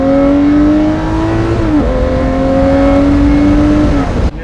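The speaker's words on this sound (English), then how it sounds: "Again, naturally aspirated V12." A Lamborghini Murcielago LP640 Roadster's naturally aspirated V12 holds a loud, sustained howl that dips in pitch briefly mid-rev and resumes before cutting off abruptly.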